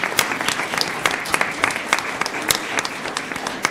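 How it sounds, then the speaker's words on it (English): An audience at a school district governing board meeting claps in a steady round of applause, with individual sharp claps standing out against the fuller patter. "let's give them a round of applause as well"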